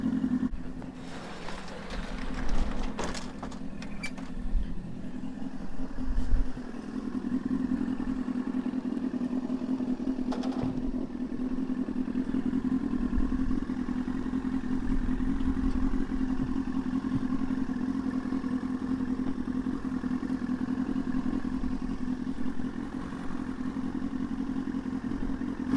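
A Yamaha R1 project motorcycle idles while warming up, its engine holding a steady low hum with a few clatters and thumps early on, close and continuous, with no talking.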